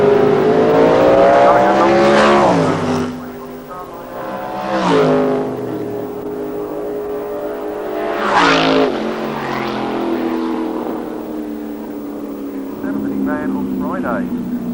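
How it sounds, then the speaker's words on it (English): A dragster and a Comp Altered car race at Santa Pod in 1990, with loud engine roars rising and sweeping past in several surges while a commentator talks over them throughout. "Dragster against Comp Autos."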